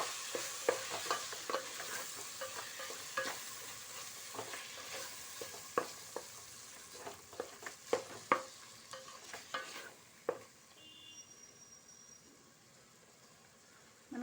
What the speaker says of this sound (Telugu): దీన్ని బాగా కలిపిస్తున్నాను.